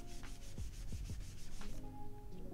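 A microfiber cloth wipes across the back of a GMMK Pro keyboard in a steady run of close, soft rubbing strokes with a few sharper scuffs, then slows and fades near the end.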